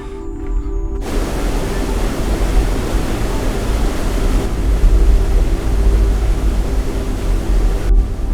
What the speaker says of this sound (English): Our next stop is for a walk to another waterfall, which is aptly named Roaring Billy.